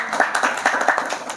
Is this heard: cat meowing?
no